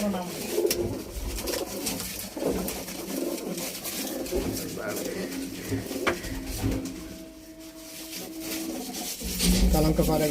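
Pigeons of a fancy breed cooing in a loft, their low murmuring calls running steadily beneath someone talking, with scattered small knocks and clatter around them.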